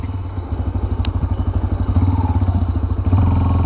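A Honda XRE 300 motorcycle with a cracked cylinder head runs close by on a test ride. Its single-cylinder engine thumps in a rapid, even pulse and grows slightly louder as it revs, with no voices over it.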